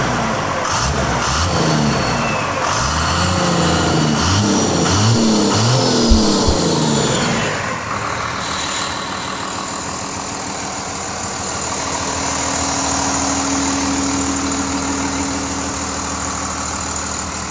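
A turbocharged vehicle engine runs close by, revving in a few rising and falling bursts before settling into a steady, even idle with a faint high whine on top.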